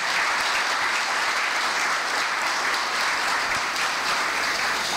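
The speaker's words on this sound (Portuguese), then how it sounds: "Uma salva de palmas para os pais e parabéns." Wedding guests applaud the couple's parents during a church ceremony, a steady, dense wash of many hands clapping that holds evenly throughout with no speech over it.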